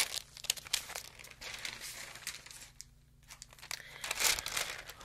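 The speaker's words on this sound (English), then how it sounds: "So I'm going to go ahead and peel off the stencil here" Paper tattoo stencil peeled off skin in an ASMR tattoo roleplay, close crinkling and tearing rustles in uneven bursts with a brief quiet pause near the middle.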